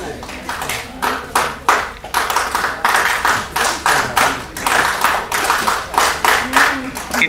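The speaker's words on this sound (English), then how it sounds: "that's the NSS clap" Rhythmic NSS clap performed by a group at a school prize distribution function, loud sharp claps in a steady repeating pattern that lasts the whole stretch, with voices underneath.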